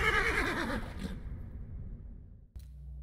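A horse whinnies loudly and close, the neigh wavering then trailing off into a low rumble, followed by a short dull thump near the end.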